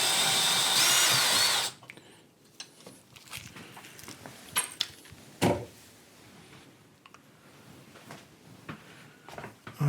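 A power drill whirs loudly for under two seconds as it backs a fastener out of a GE Profile induction range, followed by quiet clicks and handling noises of parts being moved.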